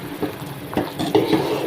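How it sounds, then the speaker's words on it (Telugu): Vermicelli stirred in ghee in a pan for semiya sabudana payasam, with close scraping strokes and light sizzling in a few uneven pulses. "తీసుకొని ఇలా నెయ్యిలో వేయించుకోవాలండి"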